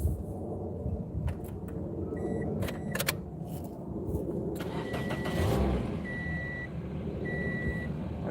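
A car engine turns over and starts, then settles into a steady low rumble, with short electronic chime-like beeps sounding repeatedly toward the end.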